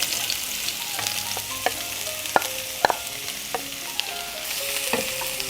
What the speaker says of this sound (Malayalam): ഇനി നമുക്കിതിലേക്ക് നമ്മൾ അരിഞ്ഞു വെച്ച സവോള ചേർത്ത് കൊടുക്കാം.